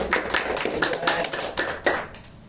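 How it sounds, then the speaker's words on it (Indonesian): A small student audience applauds a talk show guest in a school session, a handful of close, uneven claps in loose clusters that taper off. "Boleh tepuk tangan dulu nih"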